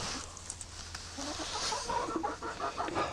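Chickens cluck and squawk in a flock of about nineteen birds around an egg incubator, with one bird flapping briefly; steady overlapping clucks sit over a constant machine hum, with no voices.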